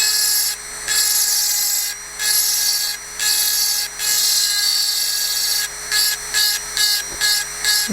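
A rotary diamond burr, fairly large and coarse, grinds deep cuts into a glass vase, a steady high whining drone broken by short pauses and a run of quick bursts near the end.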